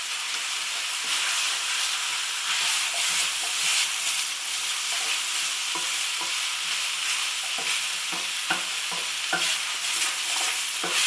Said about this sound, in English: Good stir.